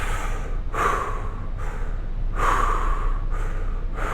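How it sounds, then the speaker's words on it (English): Deep, forceful breaths taken in a fire-breathing exercise, close and loud, arriving as three or four sharp rhythmic inhale-exhale bursts about a second apart over quiet room tone. "you might start off as that fire breathing, just big deep breaths"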